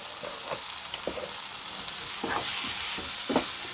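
Coriander, chili, masala and turmeric powders frying in a pan for a vegetable soya biriyani, a steady close sizzle broken by several scraping stirs of a spoon, with no talking.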